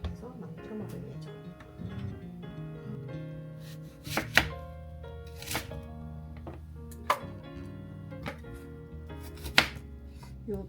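Avocado being chopped with a knife on a plastic IKEA cutting board, a series of sharp knocks spaced a second or two apart over a background of soft music.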